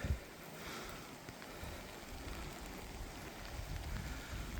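Steady rain falls at the Aare Gorge in Switzerland, a continuous soft hiss of drops on rock and water with a low rushing undertone, constant and fairly faint with no voices.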